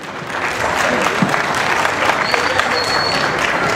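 Audience applause welcoming a singer, a contestant from Guadalajara, Jalisco, at an unreleased-song contest in Ocotlán, Jalisco; steady, dense clapping fills the hall throughout, with a faint whistle partway through.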